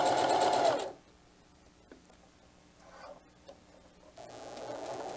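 A sewing machine slowly stitching a back tack through thick diaper bag layers: a close whirring burst at the start, a pause with faint ticks and handling, then the motor whirs again.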